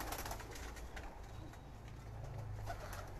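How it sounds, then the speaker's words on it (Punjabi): Pigeons coo softly on a rooftop loft, blue dumba birds kept for breeding, their low murmuring calls steady and continuous under faint ambient noise with no speech. "ਸ਼ਾਹਦ ਭਾਈ ਦੇ ਜਿੰਨੇ ਵੀ ਨੀਲ ਦੁੰਬੇ ਕਬੂਤਰ ਹੈਗੇ ਸੀ"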